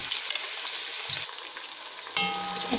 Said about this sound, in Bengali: পেঁয়াজগুলো ভেজে নেব তেলের মধ্যে